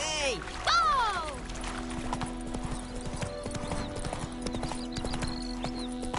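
In The Witcher, the horse Roach gallops with rapid, clear hoofbeats in a steady rhythm, heard up close. A whinny comes at the start, and voices talk over the hooves with music playing underneath.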